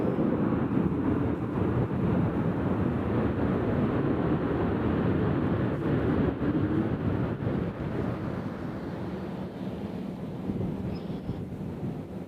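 Airliner from Cleveland arriving at Nashville International Airport, a steady broad roar of jet engines with heavy wind buffeting on the microphone, sustained and fairly loud throughout.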